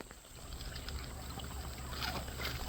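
Stream water pours steadily into a backyard pond basin, making a continuous close splashing and trickling rush with no talk.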